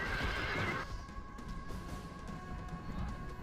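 Cavalry horses whinnying and neighing on a Rome Total War battlefield, one loud neigh up front fading into a busy backdrop of hoof clatter and battle noise, with no talking.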